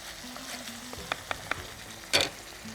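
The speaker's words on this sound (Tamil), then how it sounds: "கொஞ்சம் இஞ்சி பூண்டு போட்டுறோம். போட்டு நல்லா மிக்ஸ் பண்ணிடுறோம். நல்லா வதக்கிட்டு" Ginger and garlic sautéing in a pan, a soft low sizzle with a few sharp spatula taps and one louder scrape near the end, with no voices.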